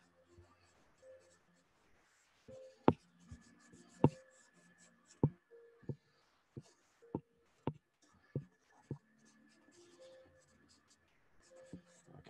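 Scratchy pencil strokes on paper during a see-through drawing workshop, laying in line and pattern on a figure's paper dress: irregular sharp taps and drags spread over the stretch, close and fairly quiet, with faint background sound.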